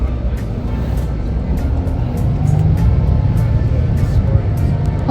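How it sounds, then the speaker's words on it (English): Heavy road traffic on a bridge heading into Singapore city makes a dense, loud rumble of engines and tires, with faint intermittent hiss from passing vehicles. "Oh, heavy traffic going to the city."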